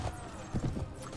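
Horse hooves thudding in the medieval combat video game Mount and Blade Warband with the Floris mod, a brief run of close, muffled clip-clop beats over a dense, noisy game background.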